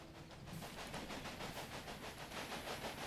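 Train running in the Railway Empire simulation game: a steady rolling rumble with rhythmic clickety-clack and hiss, moderately loud and continuous, with no talking.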